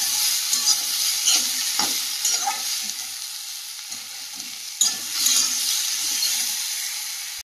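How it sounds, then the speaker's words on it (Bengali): Chunks of papaya and potato fry in a pan of oil for a village vegetable curry, a steady close sizzle broken by occasional stirring scrapes and clatters, with no voices. "পেঁপে আলুগুলো আগে ভালো করে ভেজে নিচ্ছি।"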